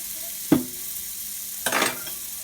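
Biscuit dough frying in a pan gives a constant, moderate sizzle, broken by a sharp clink of a utensil early on and a brief rustling scrape later.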